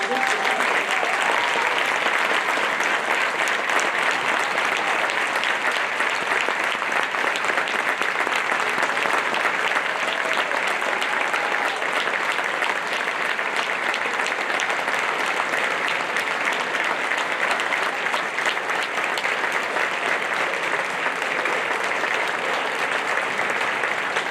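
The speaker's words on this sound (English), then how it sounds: "I want to just offer another round of applause for these kids." Long, steady applause from the audience at a school honor band concert, a thick uniform roar of many hands clapping continuously for over twenty seconds with faint voices underneath.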